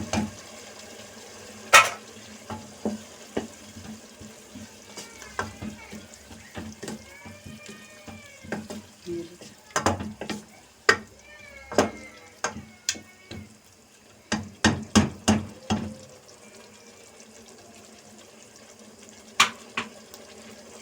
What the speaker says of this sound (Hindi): चिकन को हम इस तरह करते रहेंगे, चलाते रहेंगे